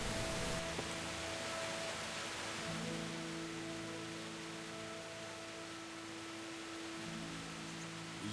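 Steady downpour of heavy rain in a medieval combat game, a constant hissing wash of noise lasting several seconds with faint tonal game ambience beneath and no talking.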